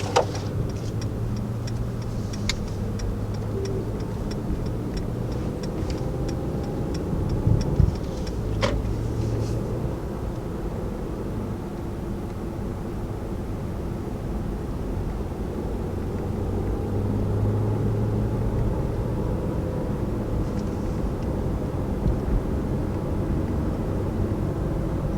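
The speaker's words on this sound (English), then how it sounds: "taking off here in the 2019 S-Class" A 2019 Mercedes-Benz S-Class 4MATIC pulling away and cruising, heard from inside as a steady low rumble of road and engine noise with a few faint clicks early on, continuous and subdued.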